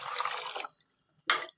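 Water is poured into rice in a cooking pot for ven pongal: a steady splashing pour for over half a second, a short pause, then a second brief pour, close and moderately loud with no talking.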